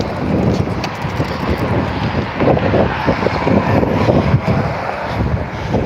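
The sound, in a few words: wind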